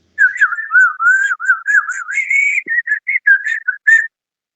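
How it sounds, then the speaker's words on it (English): A person whistles through the teeth in a quick, warbling run of short melodic phrases with brief gaps, close and fairly loud, with no talking. "That's more whistling through your teeth."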